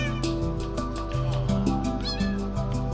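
A pet cat meows repeatedly with drawn-out, wavering cries close by, heard over a steady background of musical tones, with no talking.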